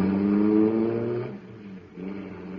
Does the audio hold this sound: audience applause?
no